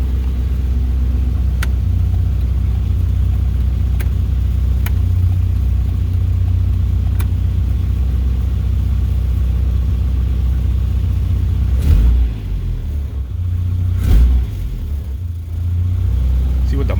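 A 1973 Opel GT engine running steadily with a continuous low rumble, then briefly revving and dipping near the end, with people talking over it.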